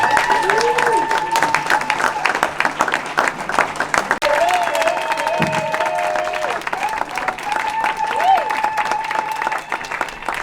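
Guests at a Congolese wedding ceremony applaud the couple, a continuous crowd clapping with cheers spread through the room, under a loud amplified voice and music-like tones.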